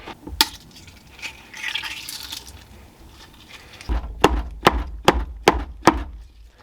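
An egg being cracked while making cupcake batter: about six sharp, hard knocks in quick succession ring out after a stretch of softer clatter and rustling.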